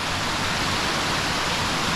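Storm runoff water rushes off the moors near Haweswater in the Lake District, a dense, steady roar of flowing water that stays loud and constant throughout.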